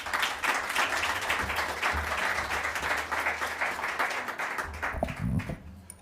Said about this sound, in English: Big round of applause for our speaker tonight.